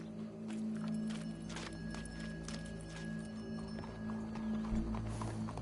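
Horse hooves clip-clop at a walking pace in Red Dead Redemption 2, quiet and fairly distant against a low steady hum, with faint tonal game ambience and no clear whinny standing out.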